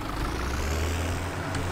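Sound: tractor engine in Farming Simulator 17 video game

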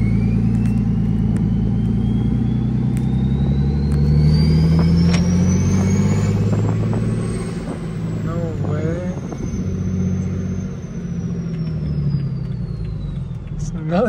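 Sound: BMW 335d car engine revving

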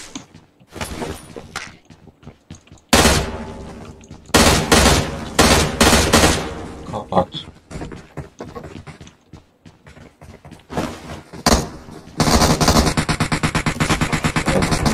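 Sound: M16 rifle gunfire in PUBG Mobile video game

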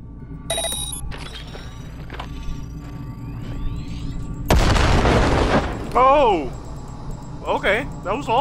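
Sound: grenade detonating in video game Cyberpunk 2077

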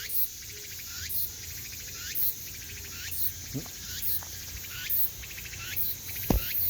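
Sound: Meimuna opalifera cicada calling

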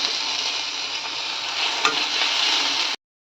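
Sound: sautéing onion and tomato in pan

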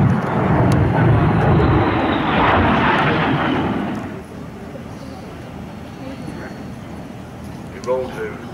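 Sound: Saudi Hawks aerobatic team jet aircraft approaching

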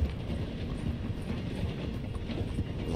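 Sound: train rolling along tracks in the video game Red Dead Redemption 2

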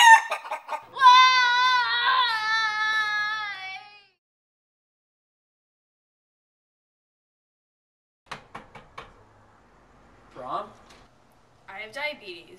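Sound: chicken clucking

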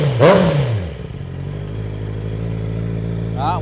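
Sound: Honda CBR650R motorcycle aftermarket exhaust revving

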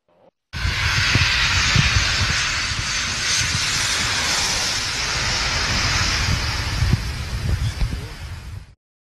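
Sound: airplane

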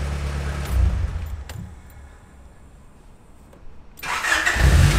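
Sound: Honda Prelude Type R car engine starting

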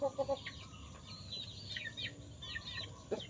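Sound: hen with chicks clucking

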